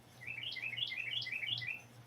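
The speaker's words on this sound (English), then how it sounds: "Nope, that's an actual bird out there." A bird outdoors gives a rapid series of bright chirps and tweets, repeating steadily for about two seconds over a low background hum.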